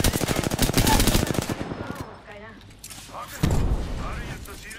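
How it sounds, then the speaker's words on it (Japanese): Rapid bursts of automatic gunfire from the battle royale video game Apex Legends rattle loudly in quick succession, then give way to scattered single shots and impacts while a player talks. "撃たれてるわ。 俺を撃ってるのか。"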